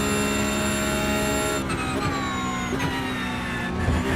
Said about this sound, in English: I absolutely love the sound of this Porsche.